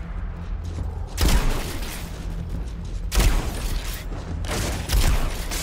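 Pump shotgun firing in the video game Destiny 2, three loud booming blasts evenly spaced about two seconds apart over continuous game background noise.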